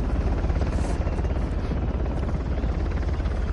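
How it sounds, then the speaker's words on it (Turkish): A helicopter in the video game Uncharted gives a steady, loud rotor drone that fills the whole stretch without pause. "Helikopteri görmemiz lazım şimdi."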